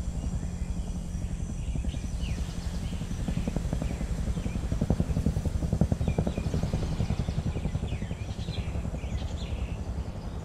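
A helicopter rising from a dusty volcanic summit site, its steady rotor thump and engine drone loud and continuous throughout, with faint chirps above it.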